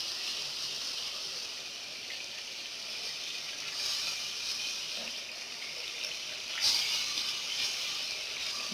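Spice masala of coriander, cumin, black pepper and turmeric frying in a pan, a soft continuous sizzling hiss held steady throughout with a slight flare near the end, fairly quiet and without talk.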